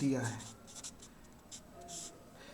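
Chalk or marker scratching across a board during a maths lesson, short quiet strokes under someone speaking in a classroom.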